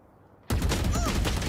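Sudden loud, sustained automatic gunfire in the video game Valorant during a LOUD vs FURIA Champions Tour match, erupting after a near-silent start and continuing as a dense, steady rattle of rapid shots.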